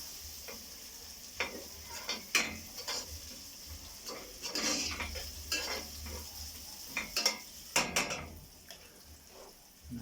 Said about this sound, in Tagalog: Nakita naman ninyo kung paano kalampagin yung kaldero.